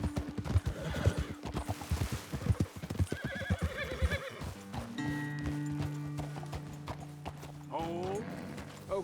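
Horses in the Red Dead Redemption 2 video game clip-clop along at a walk, then give loud neighs and whinnies near the end, with game speech and other effects mixed through.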